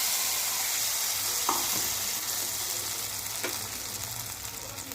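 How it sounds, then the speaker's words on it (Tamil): Curry leaves sizzle in hot oil in a pan while being stirred for a hotel-style coconut chutney. The frying hiss is steady and close, broken by a few brief stirring clinks. "ஒரு 2 பத்து கருவேப்பிலையை சேர்த்துட்டு ஒரு பெரட்டி விட்டுக்கலாம்"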